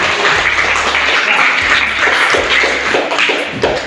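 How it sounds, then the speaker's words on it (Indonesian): A high school class applauding in a classroom, brisk uneven clapping from several students, loud and close, with dull thumps mixed in. "Tepuk tangan dulu."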